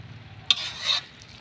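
Korat rice noodles are stirred in a hot wok, with one sharp scrape of the utensil followed by a short sizzling swish, close and brief.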